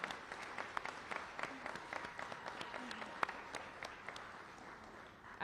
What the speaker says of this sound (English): So first of all, another round of applause